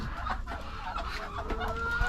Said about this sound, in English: Muscovy ducks.